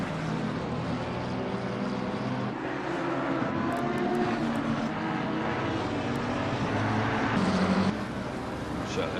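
Engine drone of a helicopter passing overhead in a racing game replay, a steady loud whirring wash filling the whole clip and swelling slightly toward the end, with no talking.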